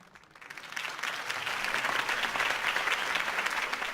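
A crowd in the video game Batman: The Telltale Series breaks into applause that quickly swells and holds as steady, dense clapping with no talking over it.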